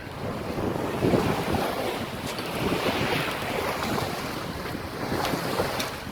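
Sailboat under sail on open water, with steady wind rushing across the microphone and waves surging and splashing against the hull throughout, loud and continuous with no voices.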